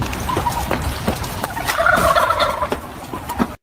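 Wild turkeys gobble in repeated rattling bursts, several birds calling loudly and close together with scattered clucks and shuffling between calls.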